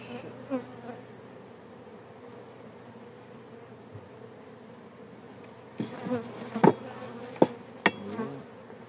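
Honeybees buzzing in a dense, steady drone after their hive was knocked, with sharp knocks and clatters of wooden hive frames breaking in near the end.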